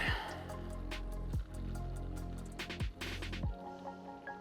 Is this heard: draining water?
yes